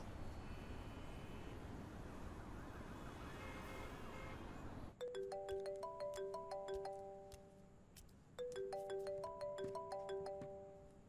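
A phone rings out loud and clear in repeated bursts of a bright melodic ringtone, two rounds separated by a short pause, after a stretch of dull background rumble.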